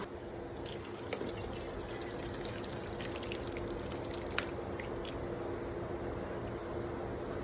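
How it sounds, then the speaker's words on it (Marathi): Curdled milk for paneer poured through a cloth-lined strainer set over a pot in a home kitchen: a steady, fairly quiet watery rush and trickle with small drips, continuous with no talk. "पातेलीमध्ये चाळण ठेवली आणि त्या चाळणीवर कपडा ठेवला आणि घालायचा"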